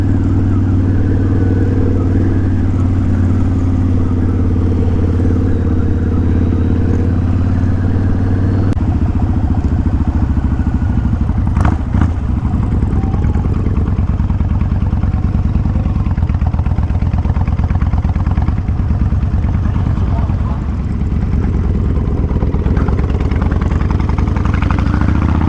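Motorcycle fitted with a new exhaust, running on a ride in fine weather, a loud, steady engine drone with wind rumble that shifts in pitch partway through and continues throughout.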